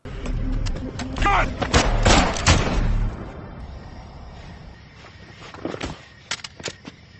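A police shooting in a film scene: a cluster of sharp gunshots and heavy thuds over a muffled score, then a quieter gap and a few more isolated bangs, with talk underneath.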